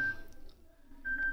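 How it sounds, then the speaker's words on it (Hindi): Ringtone previews on a Samsung Galaxy M02 phone play as faint, steady electronic tones at the start and end of the clip, quiet and without speech. "यहाँ पे आपके सामने बहुत सारी रिंगटोन आ जाती हैं"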